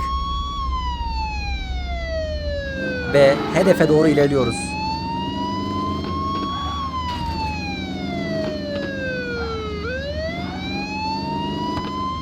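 A police car siren in the Car Simulator 2 mobile driving game wails in long, slow rising and falling sweeps over a low engine hum, with a brief burst of clatter partway through and someone talking over it.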